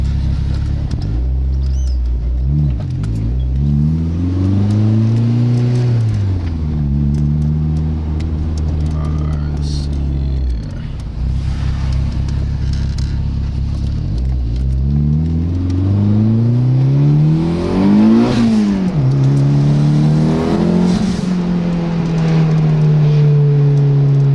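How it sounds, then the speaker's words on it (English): A 1992 DSM turbocharged car revs repeatedly, engine pitch climbing and falling in long sweeps, with a whooshing blow-off valve release as the throttle lifts, loud and close throughout. "It's a tighter, more controlled blow-off sound."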